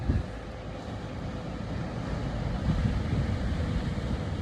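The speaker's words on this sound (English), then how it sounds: "I'm noticing how loud the waves are." Ocean waves break along a cold shoreline as a continuous low surf roar, mixed with wind buffeting the microphone, with no talking.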